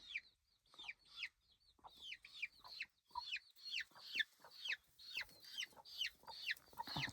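Chickens in a backyard flock cluck in a steady run of sharp, repeated calls, close and loud, about two each second with no talk over them.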